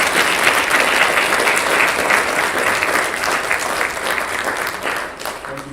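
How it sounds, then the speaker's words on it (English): A church congregation standing to give warm applause, a dense, steady wash of clapping from many hands that fills the room at close range and gradually thins toward the end. "And I would like us to give them a warm applause."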